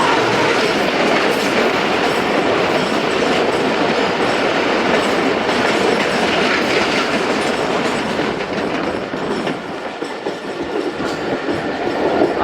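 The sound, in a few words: express passenger train passing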